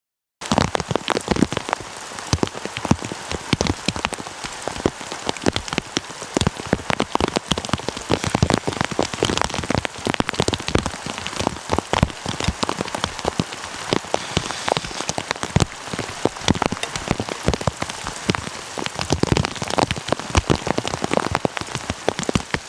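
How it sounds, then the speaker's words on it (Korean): Heavy rain pours steadily on a camping setup, a dense, close patter of drops drumming on surfaces without letup, with no voices heard. "이 빗소리를 들으면서 자고 내일 아침에도 비가 오겠지만"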